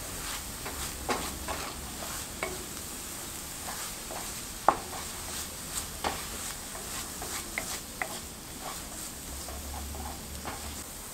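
Onions fry and sizzle steadily in a pan with sugar and paprika while a spoon scrapes and taps against it at irregular intervals.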